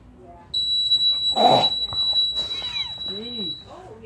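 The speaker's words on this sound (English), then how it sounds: "the alarm just went off" A store alarm goes off with a loud, steady high-pitched electronic tone that holds for about three seconds while people talk and exclaim over it.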